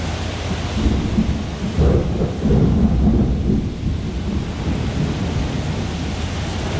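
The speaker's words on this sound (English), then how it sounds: "this is a heck of a storm." A thunderstorm with heavy rain: a dense, steady roar of downpour with deep thunder rumbling and swelling through it, loud and close, with no voices.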